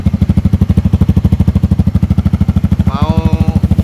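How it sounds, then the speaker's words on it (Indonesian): A Honda Supra GTR 150 motorcycle with a 77 Racing aftermarket muffler idles close by with a loud, rapid, lumpy exhaust pulse, and a voice briefly speaks over it near the end. "tahu suaranya knalpot yang rare ini, knalpot langka ini bentuknya. Knalpot petarung ini."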